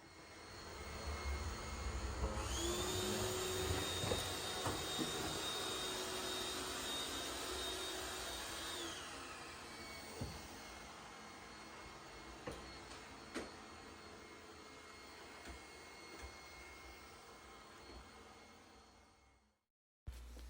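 An iLife T10s robot vacuum cleaner runs with a steady whirring motor hum and a high whine. It fades gradually toward the end, and scattered small clicks and knocks come through as it pushes things around.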